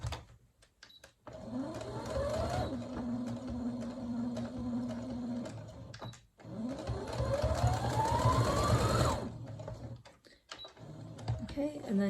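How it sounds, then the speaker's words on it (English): A sewing machine stitches a St. Patrick's Day fabric placemat in two long runs, its motor whining up in pitch at each start, with a pause between runs and speech at the edges. "bring it over to the last line and sew up the last line"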